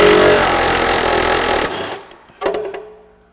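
A power tool driving a special socket to remove a catalytic converter bolt, a loud continuous whirring rattle that stops abruptly, followed by a couple of short sharp bursts.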